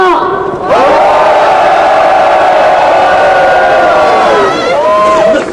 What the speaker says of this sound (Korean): 다 함께 크게 함성 부탁드립니다